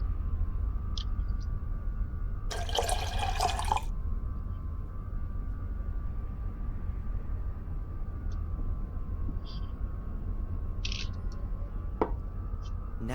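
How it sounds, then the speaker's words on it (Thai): Film developer liquid poured out in the video game The Black Mirror 2, a short gushing splash of about a second, followed by a few faint drips and clicks over a quiet room-tone hum. "I'll pour out the developer."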